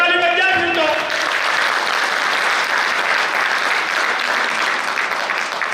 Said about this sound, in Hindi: जोरदार ताली बज जाए फिर तो